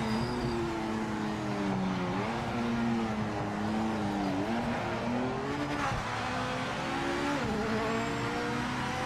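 A race car engine in the video game Project Motor Racing revs continuously, its pitch rising and falling in waves as it shifts and accelerates, loud and close with no voices.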